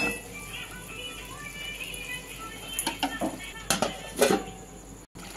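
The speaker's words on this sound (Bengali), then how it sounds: "এবার দিয়ে দেবো ঢাকা।" A metal lid clanks onto a cooking pan of paneer chilli butter with a few clattering knocks, near and fairly quiet, over low kitchen background noise.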